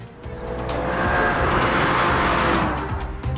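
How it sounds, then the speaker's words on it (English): A BMW M3 E36 engine roars close by, swelling in loudness and then easing off in a smooth, strong rush of engine and road noise with no voices. "After starting the engine, you notice this is not a normal engine."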